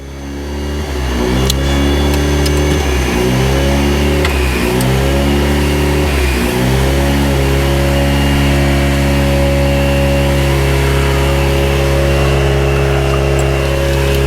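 A DeLorean with an EcoBoost engine swap cranks and catches, revs up several times in quick surges, then settles into a loud, steady, close-up idle.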